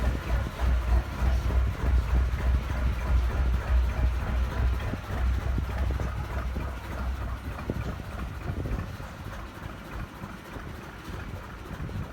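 A narrowboat engine chugs along a canal with a low, steady rhythmic throb near Watling Street Bridge, staying moderately loud and easing slightly toward the end.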